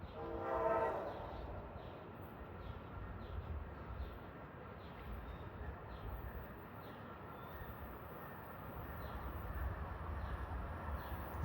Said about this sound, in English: approaching at 5:23 is Amtrak 129 from New York to Washington.